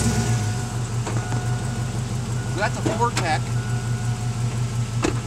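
A Chevy monster truck's gas Vortec 6.0 liter V8 idles after starting, a steady close rumble with a throbbing pulse, while someone speaks briefly over it.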